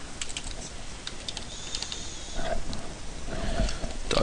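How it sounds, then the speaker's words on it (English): Keys tapped on a computer keyboard as a network ping command is typed, a light run of close clicks over steady background noise, with a few firmer strokes toward the end and one near the close. "So we'll type ping application server"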